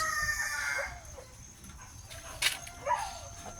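A rooster crows nearby, followed by scattered clucks and short squawks from chickens over a quiet outdoor background.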